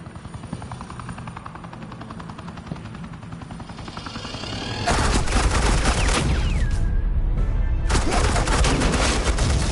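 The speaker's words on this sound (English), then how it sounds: "Suppressing fire." Suppressing gunfire in the Batman The Enemy Within video game arrives as a dense, loud, continuous burst of rapid shots that cuts in halfway through, layered over a steady helicopter-like drone, with a brief gap near the end.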